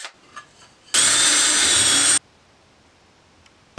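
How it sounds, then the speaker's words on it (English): A power drill bores a pilot hole through wood for a spice shelf, one loud steady whine lasting just over a second, alone between quiet moments. "Next, I drilled a pilot hole the rest of the way through the wood."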